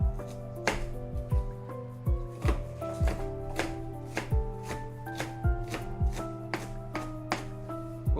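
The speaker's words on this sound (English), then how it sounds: "Let's chop the onions." Onions being chopped with a knife on a cutting board, a steady series of crisp, close knife strikes in an uneven rhythm over a low background hum, with no talking.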